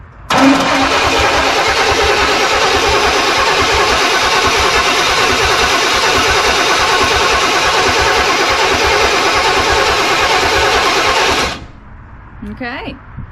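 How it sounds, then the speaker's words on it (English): A 1987 Chevy small-block 350 with throttle-body injection, unstarted for about 20 years, cranks and catches, then runs loud and close for roughly eleven seconds before cutting off abruptly, followed by a brief voice. "See if it cranks with just the key."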